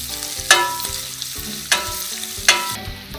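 Chopped onion sautéing in a pan for vegetable biryani, a soft steady sizzle broken by three sharp spatula clanks against the pan, spaced about a second apart, with no talking.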